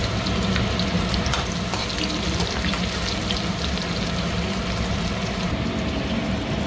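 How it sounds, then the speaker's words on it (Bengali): Cumin seeds and onion frying in hot oil in a kadai, a loud, dense, continuous sizzle with crackling that holds steady throughout. "তেলের ওপর জিরে দিয়ে দিলাম, দেবো পেঁয়াজ"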